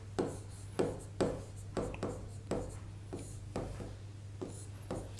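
A definition being written out by hand during a Hindi grammar lesson on compounds: steady, evenly spaced pen or chalk strokes, about a dozen scratchy marks, close and fairly quiet with no talk.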